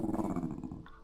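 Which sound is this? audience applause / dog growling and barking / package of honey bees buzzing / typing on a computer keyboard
dog growling and barking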